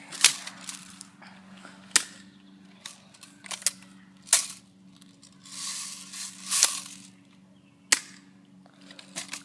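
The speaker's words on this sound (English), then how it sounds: "So I think that's enough shooting for now." Crosman ZT32 airsoft shotgun firing BBs, several sharp snapping shots spaced a second or more apart, interspersed with softer clacks and rustling of handling, close by and without speech.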